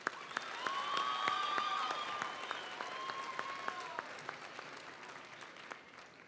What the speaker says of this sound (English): Let's give one more round of applause for all our Creed-speaking contestants.